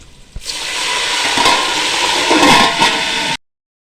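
A spice tempering for chicken pulao hisses loudly in a pan as a splash of water hits the hot oil, with a sharp start, a steady intense sizzle, and an abrupt cut to silence.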